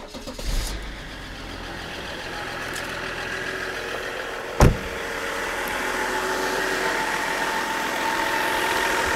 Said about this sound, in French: Je vais aller démarrer la voiture.